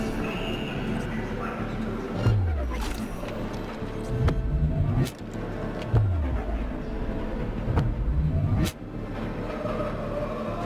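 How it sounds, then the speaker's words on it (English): Car engine in the Cyberpunk 2077 video game, a rumbling motor with repeated rising and falling revs as gears shift, accompanied by scattered clicks and effects and no speech. "Well, that's the car."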